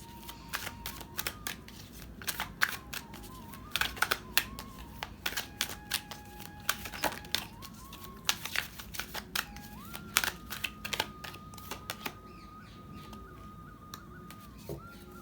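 Tarot cards are handled and shuffled close by, with crisp snapping riffles and clicks at uneven intervals over a quiet room.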